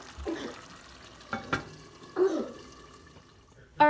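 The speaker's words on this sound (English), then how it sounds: "cook it a little bit longer with the lid slightly off to help the water to evaporate more" Ground beef picadillo in a pot being stirred as it simmers with the lid slightly off: a few scraping, clattering stirs and soft bubbling, fairly quiet, ending in a sharper knock.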